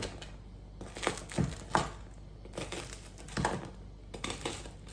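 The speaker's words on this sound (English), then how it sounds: "now we take a chef's knife, and I'm going to cut it into pieces" A chef's knife cuts through crusty cheesy garlic bread made with garlic and cheddar, giving close crackling, crunching strokes in uneven bursts with brief pauses between cuts.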